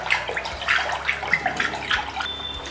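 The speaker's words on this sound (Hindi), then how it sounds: "यानी कि पानी को हम रोटेट करेंगे" Water in a container is swirled by hand to marble paint for stone painting, giving a close, steady run of sloshing, splashing bursts with no talk.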